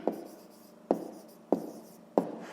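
A pen or pencil writes on paper during a fifth-grade math exercise, making four distinct scratchy strokes at uneven intervals, close and quiet, with no talking.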